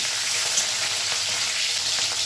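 Black cumin and green chilies fry in a little oil, giving a dense, even, close sizzle with faint stirring ticks underneath and no voices.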